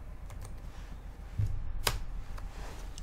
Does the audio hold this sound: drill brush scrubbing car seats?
no